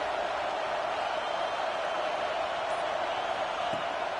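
A steady stadium crowd roars in an EA Sports football game, a broad, constant wash of massed cheering and noise with no breaks, heard close and fairly loud.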